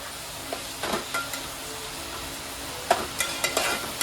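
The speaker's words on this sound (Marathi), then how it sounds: "आता याला आपण गोल्डन ब्राऊन पर्यंत भाजून घेऊ कांद्याला" Onions fry in a pan until golden brown for a mutton gravy, a steady close sizzle broken by a few soft stirring scrapes and clicks, with no talking.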